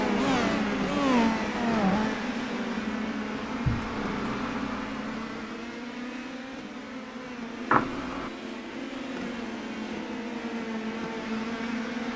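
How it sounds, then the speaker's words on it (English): Indy Pro 2000 race cars in iRacing at the Streets of Long Beach circuit, one engine revving and shifting through sweeping tones over a constant drone of engine noise, with two brief sharp knocks. "sounds like we got cars sliding around here"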